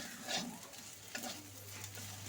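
Ridge gourd and potato frying in a pan give a soft, quiet sizzle with a few scrapes of stirring, a low steady hum running underneath, and no talk.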